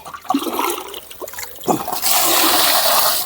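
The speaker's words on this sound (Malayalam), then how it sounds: "ഇച്ചിരി വെള്ളം കോരി കളയാമേ അതായിരിക്കും നല്ലതെന്ന് എനിക്ക് തോന്നുന്നു" Water scooped from a backyard fish pond that holds carp and poured away. Several sloshing scoops come first, then a loud, sustained gushing pour that runs to the end.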